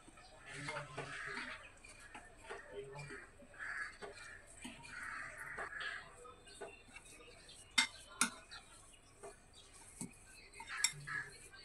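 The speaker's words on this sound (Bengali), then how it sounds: "এই সমস্ত কিছু খুব ভালোভাবে একটু মিশিয়ে নেব।" Semolina, oats and sour yogurt stirred together in a bowl, with scattered spoon scrapes and clinks against the bowl coming in short bursts under soft speech.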